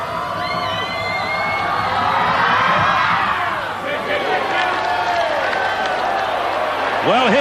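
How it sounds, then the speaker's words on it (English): A large crowd at a 1991 Rugby World Cup match between Italy and USA cheers and applauds steadily, a dense, loud wash of clapping and shouts with whoops rising near the end. "The applause rings around the ground"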